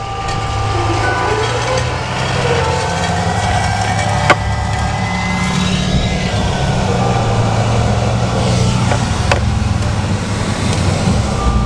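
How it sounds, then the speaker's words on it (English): Steady road traffic noise heard from a rooftop: a continuous low rumble of cars and trucks with engine drone and occasional passing swells, fairly loud and without voices. "The traffic noises are kind of bad up here."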